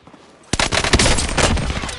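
Sustained automatic gunfire in Warzone, a dense rapid burst that erupts suddenly after a quiet half-second and keeps rattling loudly without a break.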